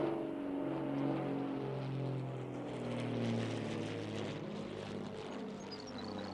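Propeller airplane coming in to land, a steady droning engine hum with low harmonic bands that holds at an even loudness, no voices over it.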